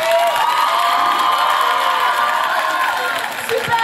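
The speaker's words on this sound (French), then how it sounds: "Applaudissez!" A concert crowd in Belgium, with many children among them, cheers and shouts excitedly in a loud, continuous roar, with some clapping mixed beneath the whoops and cries.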